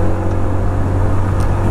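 TVS Jupiter 125 scooter being ridden on the road, a steady engine drone with heavy low rumble and wind noise throughout, close and continuous.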